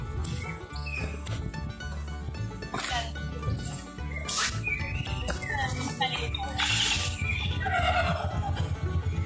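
A horse neighs several times in short whinnying bursts over a steady low rumble, with bird chirps and other outdoor sounds mixed in and a little talking in the background.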